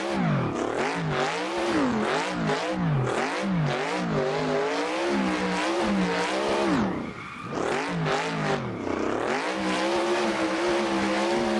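A drift car engine revving hard in second gear in Assetto Corsa, climbing and falling in repeated loud pitch sweeps with a brief dip partway before it surges again.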